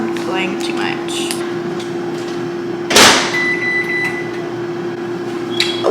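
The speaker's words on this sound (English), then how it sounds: "let's get this in the microwave" A microwave oven heats food with a steady droning hum, broken midway by a solid door-like thump and followed near the end by a short electronic beep; a voice is briefly audible at the start.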